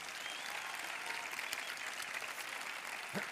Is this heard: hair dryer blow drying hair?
no